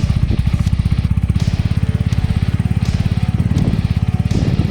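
A 250cc motorcycle engine idles loudly and close by, with a steady rapid putter throughout and no talking.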